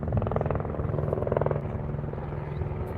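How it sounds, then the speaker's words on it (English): A helicopter passes overhead in Los Angeles at sunset, its rotor beating a steady, low, rhythmic thump that swells slightly, then holds at a moderate level with no talking. "but that's a helicopter"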